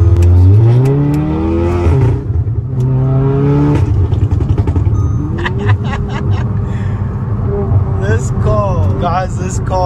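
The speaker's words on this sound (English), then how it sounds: "your exhaust is so loud" A Volkswagen Golf 7.5R with a stage 2 tune and a very loud aftermarket exhaust revs hard nearby, engine pitch sweeping up and down through several throttle blips with crackles, as people talk and shout over it.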